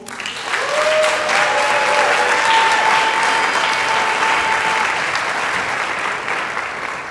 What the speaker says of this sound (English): I have one more round of applause for Rosa and Maria.